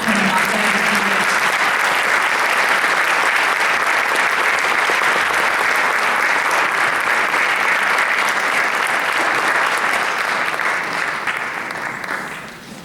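A school community service awards ceremony fills with loud, sustained audience applause as students come up on stage, dense clapping from a large crowd that thins and fades near the end.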